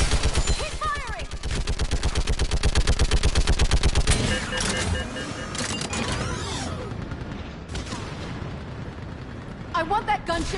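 Rapid automatic gunfire in the video game Mass Effect 3: a dense, loud burst of evenly spaced shots for the first few seconds, then scattered blasts and a rumbling battle din, with shouted voices over the fighting.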